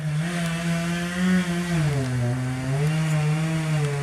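A chainsaw engine drones steadily nearby, its pitch wavering slightly as the throttle shifts, loud and continuous with no talking.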